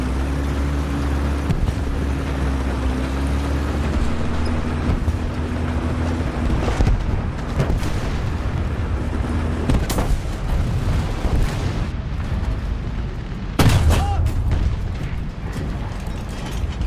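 In the War Thunder tank game, a low engine and mechanical rumble runs throughout, broken by several loud, sharp shell impacts and booms, with a heavy hit near the end and no speech.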